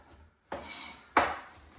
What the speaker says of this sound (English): I'm going to slice up the garlic.